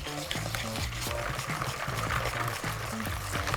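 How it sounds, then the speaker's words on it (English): Dry ingredients for mint choc chip cupcakes pour into wet batter in a bowl, giving a steady, close, fairly quiet rushing and pattering through the whole stretch with faint clinks and no talking. "add your dry ingredients into your wet ingredients"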